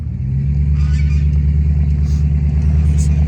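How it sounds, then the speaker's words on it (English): Pickup truck passing nearby while its driver takes out the trash, a loud, steady low engine rumble that holds throughout with a slight rise and fall as it goes by. "his truck's kind of loud"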